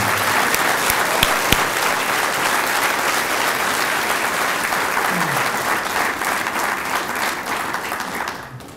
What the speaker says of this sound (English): Let's give our students and award winners another round of applause.